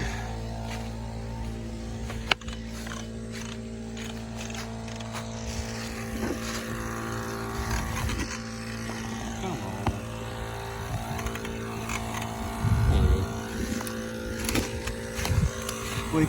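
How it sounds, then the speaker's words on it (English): An air compressor running at a steady hum, used to fill the tires on a 1984 Toyota truck, moderately quiet, with clanks and handling noises over it and a few louder bumps later on. "Turn this compressor back on."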